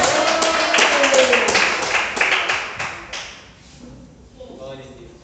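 Church congregation welcoming the pastor with a burst of lively rhythmic clapping, loud and close at first, then thinning and fading into scattered claps and low room murmur.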